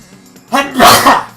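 A person sneezes once, loud and close: a brief intake followed by a sharp burst.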